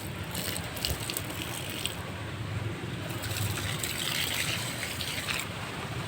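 Steady splashing and trickling of water poured continuously onto garden plants, fairly close, with no talking.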